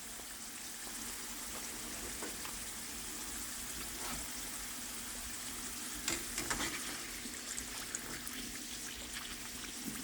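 Hopnis (Apios americana) tubers fry in hot oil, a steady soft sizzle and bubbling hiss held throughout, with a few brief clinks and stirs near the end, no talking.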